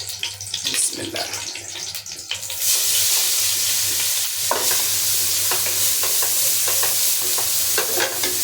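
Carrots frying in ghee for carrot halwa in a village kitchen: light scraping and stirring at first, then a loud, dense, steady sizzle takes over and keeps up close by, with a few clanks on top.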